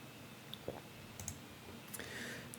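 A computer mouse clicking on a Linux desktop, with a few faint, isolated clicks spaced irregularly over a very quiet background.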